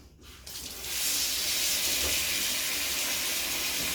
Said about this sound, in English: I'm going to pop in a little bit more water